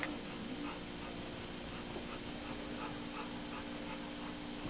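A dog whimpers softly while pawing at another dog, giving faint, scattered whines over a steady background hiss. The whines are quiet and stay at a low level throughout.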